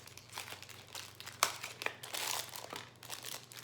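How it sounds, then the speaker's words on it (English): Cardboard packaging for NYX powder foundation is torn open by hand, with close crinkling, crunching and sharp tearing bursts over a few seconds. "I'm just totally going to rip apart this box."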